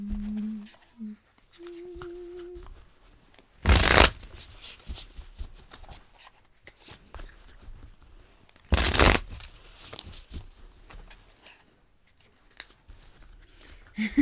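Tarot cards being shuffled, two distinct riffling bursts several seconds apart amid quiet handling noises, close and clear, with a brief hum or tone at the start.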